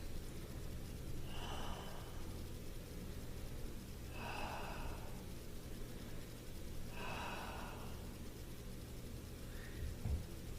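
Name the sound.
deep breaths during a stretch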